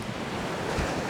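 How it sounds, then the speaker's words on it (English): A strong wind of about 17 mph roars steadily across a campsite near the Sierra Nevada mountains, a broad, constant rush buffeting the microphone with no voices. "17 mile per hour wind."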